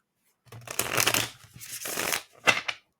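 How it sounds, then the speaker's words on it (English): A deck of Sacred Creators Oracle cards being shuffled by hand, close-up, in two riffling bursts followed by a short final flutter, with quiet between. "One more shuffle."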